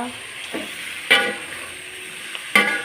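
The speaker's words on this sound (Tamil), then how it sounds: "என்ன மசாலாவும் இந்த சிக்கனில் நல்லா பிடிக்க நல்லா கிளறணும்" Chicken curry with masala is stirred in a pan, with a few distinct scraping strokes of a spoon over a low, soft sizzle, close by and with no talking.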